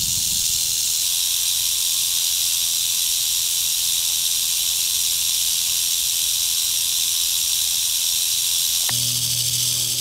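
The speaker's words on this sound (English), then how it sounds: "Pretty good looking rattle." A Southern Pacific rattlesnake rattles its tail in a loud, continuous, buzzing hiss that holds steady and close for the whole stretch, with a brief low rumble near the end.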